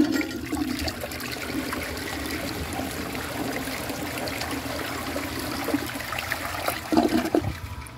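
A 1992 Eljer Preserver toilet flushes during a foam test, a loud steady rush of water throughout, ending in gurgling swirls near the close.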